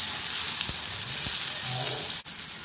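Chopped tomatoes sautéing in a pan for a fenugreek curry (vendhaya kulambu): a close, steady hiss and sizzle throughout, with a few faint stirring taps and a sharp click near the end.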